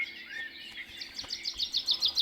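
Small birds chirp in the background, a series of quick high tweets that become more regular and distinct toward the end, with no voices over them.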